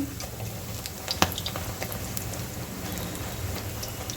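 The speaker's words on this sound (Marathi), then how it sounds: "आता याला छान गुलाबी आपण आपल्याला तळून घ्यायचे आहे" Malabar spinach (poi leaf) fritters frying in hot oil give a steady, close crackling sizzle with scattered sharp pops, and no voices.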